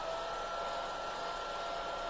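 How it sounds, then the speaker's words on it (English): Hair dryer blowing over freshly stencilled Fusion Mineral Paint, a close, steady whooshing roar with a thin motor whine that holds evenly throughout with no talking. "Just a quick hit with the hairdryer."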